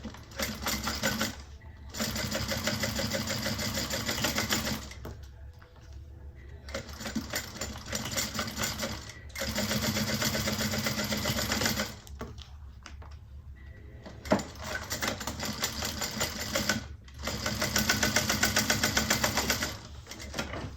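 A sewing machine stitching a handbag in repeated bursts of rapid mechanical whirring, several runs of a few seconds each separated by short pauses, close and steady.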